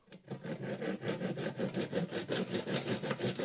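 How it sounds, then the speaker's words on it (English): A handsaw cuts with steady, rhythmic back-and-forth rasping strokes, close and moderately loud, about a dozen strokes with no talking. "I'm just doing these areas here, so let's get that done. Just using a handsaw."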